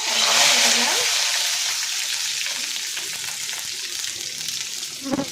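Steady sizzling of cumin seeds and bay leaves frying in hot oil, fairly close and continuous, with a brief clatter near the end.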